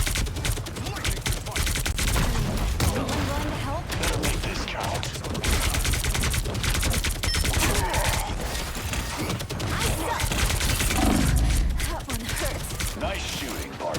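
Gunfire from a Marvel Rivals tournament match, continuous rapid shots and crashing impacts layered over busy game sound and a voice talking.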